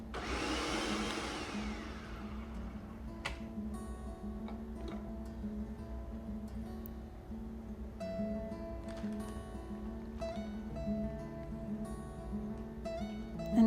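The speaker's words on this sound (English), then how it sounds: "Put that lid on your food processor, give it a good pulse to get you started here." A food processor pulses cracker dough with salt for gluten-free crackers, starting with a loud whirring burst that fades into a quieter, lingering motor hum with light ticking.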